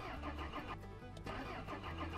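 A car engine in the video game Mon Bazou cranks repeatedly as it tries to restart after stalling, with a rhythmic churning starter sound that keeps cycling without catching. Heard close and fairly quiet, with no talk.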